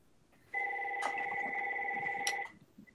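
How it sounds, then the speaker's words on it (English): A telephone rings with a steady electronic tone for about two seconds during a virtual meeting, fairly close and clear, with quiet room noise before and after. "And I got an incoming call."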